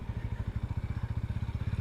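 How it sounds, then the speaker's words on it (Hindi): Sothassi Classic 400 retro motorcycle idling with a steady low thumping engine hum and exhaust note, a regular rapid pulse of even beats, close and alone without talk. "personally I like this kind of humming of the engine, और एग्जॉस्ट नोट बहुत अच्छा है"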